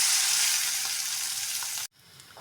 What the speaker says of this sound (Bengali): এখন সেই তেলে আমি আমার গ্রাইন্ড করা সব কিছু দিয়ে একটু ভেজে নেব।